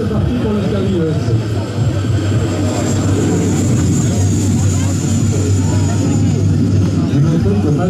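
Aircraft roaring overhead at an air show, a steady loud engine drone with a rising high whine throughout, while people talk underneath.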